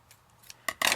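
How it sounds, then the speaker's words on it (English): Scissors snip through paper being cut for a journal spine during bookbinding, two crisp close cuts in quick succession at the end of a brief quiet moment. "we're going to give it a little snippy snip right there"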